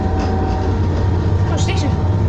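A Class 221 Virgin Super Voyager train runs with a steady, loud low rumble and constant interior drone, a brief higher squeal rising near the end.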